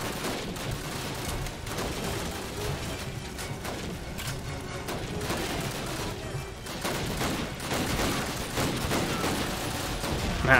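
Rapid rifle fire in the World War II shooter Call of Duty: United Offensive, dense overlapping shots and battle noise continuing steadily throughout at fairly loud level.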